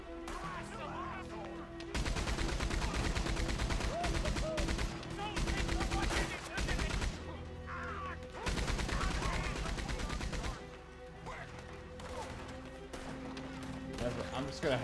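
Red Dead Redemption 2 gunfights erupt in heavy, rapid volleys of shots, loud in two long stretches with quieter gaps between them, and a voice is heard alongside.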